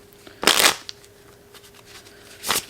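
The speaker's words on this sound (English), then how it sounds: "We'll put the 4 of clubs back in and shuffle" A deck of playing cards is shuffled close up in two quick riffling bursts, one near the start and one at the end, with quiet handling sounds between them.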